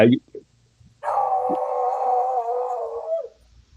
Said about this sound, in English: my dog's probably letting me know that it's time for me to go.